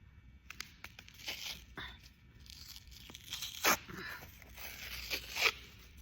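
Short, sharp tearing sounds of athletic tape being ripped by hand, a few quick rips separated by quiet rustling, close up.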